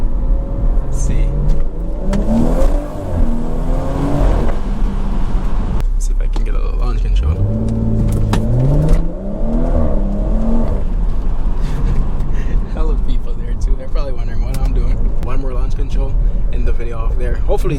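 A BMW 340i with a B58 engine and an aftermarket downpipe accelerates hard while racing a Corvette Z06. Its engine note climbs loudly through several gear shifts, heard close from inside the cabin with voices talking over it.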